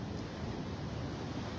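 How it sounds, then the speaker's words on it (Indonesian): Ocean waves washing onto a beach shore, a continuous low rumbling roar with wind-like hiss, steady and moderately loud without distinct individual breaks. "bagaimana kita dengar kesan suara gelombang sambil menikmati"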